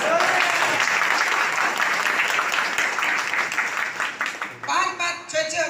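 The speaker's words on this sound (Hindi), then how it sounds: "तो तालियां बज सकती है?" An audience at a network marketing meeting breaks into sustained applause, loud and dense, tapering off as a voice begins speaking near the end.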